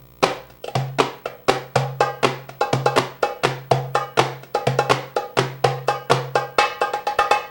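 Soft pop strokes on a doumbek, Arabic goblet drum, played in a steady repeating rhythm mixed with deeper doom strokes, about two dozen crisp close hits with short ringing decays and no voices.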